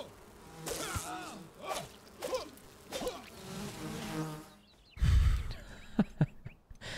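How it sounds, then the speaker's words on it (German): Angry bees buzzing during a fight in the video game Enshrouded, repeated swelling insect drones in bursts, with a heavy thump and sharp hits near the end. "Der Kampf mit den Bienen."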